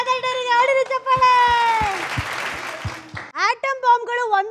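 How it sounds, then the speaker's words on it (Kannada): An audience claps and cheers for the winning Mother Dairy team on a Kannada TV game show. The burst of applause rises over bright music and voices, then fades back into them. "ಟಾರ್ಚ್ ಮತ್ತೆ ಮದರ್ ಡೈರಿಗೆ ಹೊಡೆದು ಚಪ್ಪಾಳೆ"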